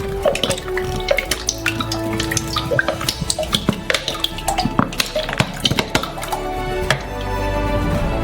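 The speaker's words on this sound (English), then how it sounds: "and pour a whole liter into the saucepan." Cooking oil glugs from a bottle into a saucepan for deep frying, close, irregular splashing and dripping pulses that continue steadily for several seconds without talk.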